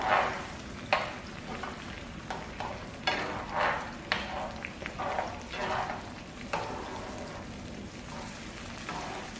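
A spoon stirs egg and tomato stew in a pan, making repeated soft scraping strokes over a low bubbling sizzle, close and fairly quiet.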